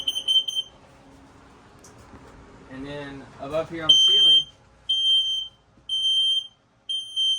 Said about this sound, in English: is your carbon monoxide / propane leak detector